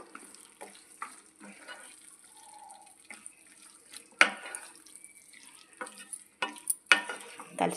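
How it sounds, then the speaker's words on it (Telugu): Soft scraping and clinking of a spoon stirring field bean seeds into masala in a pan, with intermittent sharper taps against the vessel, quiet and close. "అందులో ఆ మసాలాలో బాగా కలిసేటట్టు బాగా కలుపుకుందాము"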